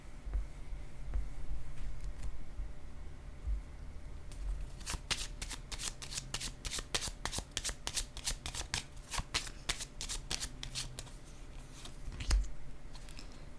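Playing cards riffled and shuffled for a tarot-style reading, a dense run of quick crisp flutters and snaps, close and fairly loud, after a quieter stretch of handling, with no talking.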